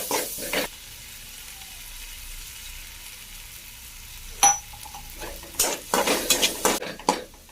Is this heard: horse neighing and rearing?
no